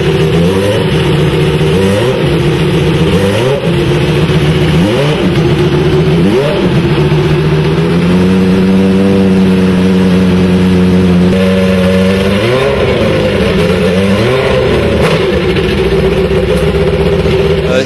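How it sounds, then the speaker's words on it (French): A 680-horsepower Tyrrell 023 Formula 1 car engine revs hard and loud, its pitch sweeping up and down repeatedly before holding a steady high whine, then climbing and falling again. "c'est une voiture qui développe 680 chevaux pour un poids de 520 kg."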